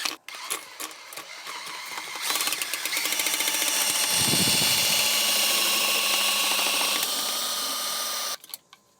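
A power drill spinning a cleaning line inside a septic pipe, a loud steady whirring motor that ramps up, holds for several seconds with a rattling low rumble, then cuts off abruptly.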